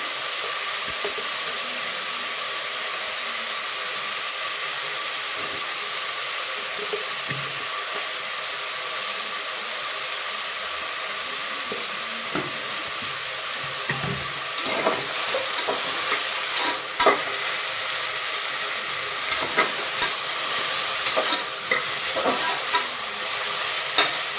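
Ginger garlic paste sizzles steadily in a hot pan for veg kurma, a continuous close frying hiss with occasional stirring scrapes and pops growing busier toward the end.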